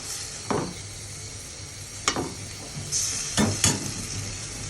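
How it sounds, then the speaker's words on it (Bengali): Prawns stir-fried with spices in a pan sizzle steadily while a utensil scrapes and stirs in several distinct strokes, close and clear with no voices. "এবার আমি মশলাগুলো দিয়ে সুন্দর করে চিংড়ি মাছটা কষিয়ে নেব"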